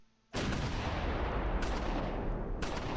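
Close Combat IV wartime battle gunfire erupts in dense, loud bursts of rifle and machine-gun shots after a short quiet start, continuing as a sustained rattling barrage with fresh volleys kicking in.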